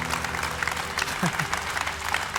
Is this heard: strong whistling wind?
no